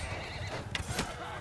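A horse neighs in a cavalry battle from a video game set in the Amir Timur Bandit Kingdom campaign, one brief whinny rising over a steady din of battle noise and hoofbeats.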